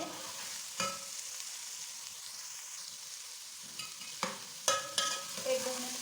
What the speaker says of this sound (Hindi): एक 2 मिनट इन्हें भी सौटे कर लेंगे।